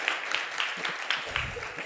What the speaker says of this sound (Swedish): Så en varm applåd till Henrik Kilberg